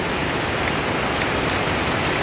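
Heavy overnight rain pouring near a swollen waterfall, a dense steady hiss of falling water with no breaks, loud and close.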